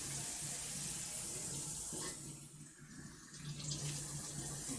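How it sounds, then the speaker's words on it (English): Tap water runs steadily into a sink while a container that held meat is rinsed, a loud close rush that dips and muffles briefly as the container fills and is swirled. "So let's give this a rinse out since we had meat in it"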